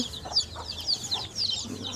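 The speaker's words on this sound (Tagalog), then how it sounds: "Saka yung mga ingay ng mga manok. Yan, tumitilaok." Native chickens on a mountain farm cluck and chatter in quick, uneven bursts at close to mid range, with a few sharper high calls over faint background noise.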